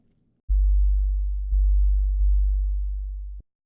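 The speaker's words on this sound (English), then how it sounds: "Just a very, very pure sine waveform" A pure sine-wave sub bass plays as a deep, steady low tone for about three seconds on its own. It restarts twice with small clicks at each onset and then cuts off cleanly.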